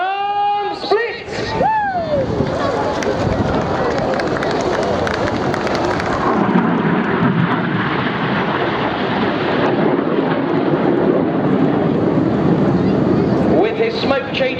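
Red Arrows jets flying the Palm Split at the Eastbourne Airbourne airshow, a loud sustained jet roar filling the whole span, with sweeping pitch glides near the start and crowd noise underneath.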